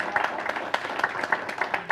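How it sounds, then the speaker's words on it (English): A church congregation applauds new members at a Sunday service, irregular claps from a modest group forming a light, continuous patter with a few sharper hands standing out. "Let's give them a nice applause."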